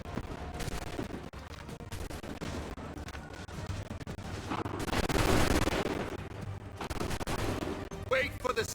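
Soldiers fire muskets in the video game Assassin's Creed 3, with scattered shots and a dense volley swelling midway among crackling battle noise.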